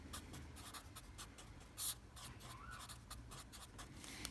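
Pen or marker writing out a maths rule on paper, a quick run of short scratchy strokes with brief pauses, faint and close, no talking.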